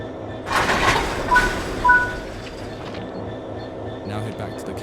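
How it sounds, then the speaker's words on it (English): Train coupling to wagons in the Train Sim World 5 game, with clanking metallic knocks and brief squealing tones over a low rail rumble, then quieter mechanical clicks near the end, under a narrating voice. "Interact with the coupling to couple the vehicles together."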